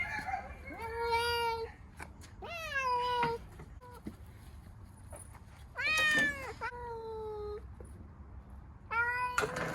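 Several loud, drawn-out meows from cats, repeated in bursts with quiet pauses between, close by.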